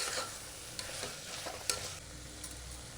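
Tomatoes with ginger garlic paste sauté in a pan with a constant low sizzle, while a spatula stirs through them with a few faint scrapes and taps.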